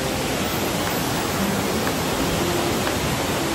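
A waterfall roars as an even, dense rush of falling water, steady and unbroken for the whole stretch, heard from nearby with no voices.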